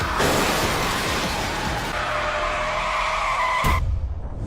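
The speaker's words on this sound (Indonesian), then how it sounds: "mobil Brewok diserang dari samping hingga terlempar keluar dari jalur jalan" A car is struck from the side and skids off the road, with a loud sustained tire screech over rumbling noise lasting several seconds before cutting off abruptly near the end.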